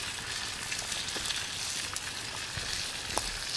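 Bacon sizzles and crackles steadily in a small crowded frying pan, a dense continuous hiss with occasional sharp pops, close and moderately loud with no talking.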